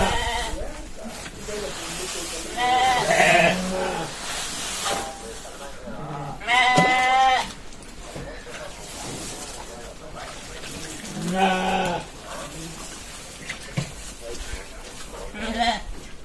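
Dorper and Rambouillet sheep on a farm bleat in several bursts, loud and close at times and fainter at others, mixed with steady background noise and what may be people talking.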